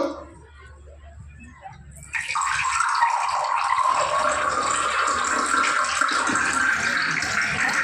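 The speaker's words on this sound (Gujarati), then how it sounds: "લાવ, હવે પાણી ભરી દઉં છું." Water runs from a tap into a vessel, starting abruptly after a quiet moment and then flowing loudly and steadily close by.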